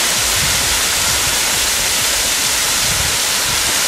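Continuous loud hissing spray of water, a dense steady rush with no pauses.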